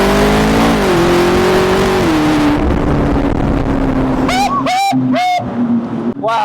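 McLaren sports car engine revving loudly through a tunnel, a steady roaring drone that drops in pitch, then sharp rising revs with rapid throttle blips echoing near the end.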